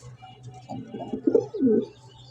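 A large Gopalganj pigeon coos nearby in a few soft, throaty, rolling phrases, the calls swelling toward the end against a faint steady hum.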